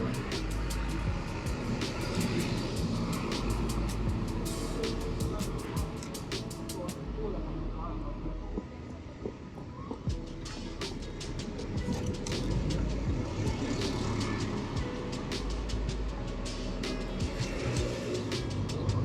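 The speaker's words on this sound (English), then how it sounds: "Wait for this bus to come round the corner." A bus approaches around a street corner, its rumbling engine and road noise building in a busy street with traffic, while a person talks nearby.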